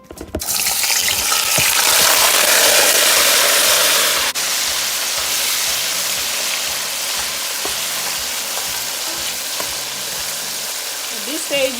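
Beef chunks dropped into hot oil in a pot on the stove, setting off a loud, steady sizzle that stays broad and continuous, easing slightly after a few seconds but frying on throughout.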